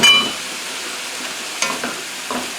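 Pre-cooked king prawns tossed into fried rice sizzling in a pan, a steady close hiss with a few stirring scrapes and soft clacks.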